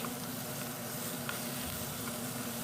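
Chopped beetroot sizzling and frying in a pressure cooker pan while being stirred, a continuous close hiss with faint scraping, no talking.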